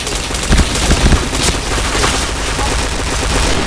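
Rapid gunfire in a shooter video game, dense fusillade-like bursts and booms filling the mix loud and continuous, with game effects layered throughout and no talk heard.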